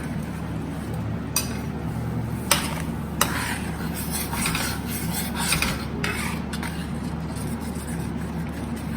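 Spoon stirring sweet and sour paneer in a metal pan, scraping and clinking against the pan with several sharp taps, close and moderately loud, with no talk.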